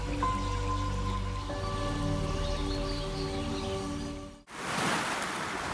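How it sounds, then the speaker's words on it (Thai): Natural flowing water rushes steadily, with a soft held musical tone layered over it, before a brief drop to near silence and a return of broadband watery noise. "เราเลือกใช้เสียงน้ำในธรรมชาติ คลอคลอกับเสียงนก"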